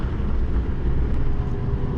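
A Porsche race car under throttle at Sonoma Raceway, heard from inside as a loud, steady roar of engine and road rumble with no talking.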